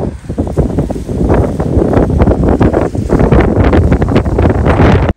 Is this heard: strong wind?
yes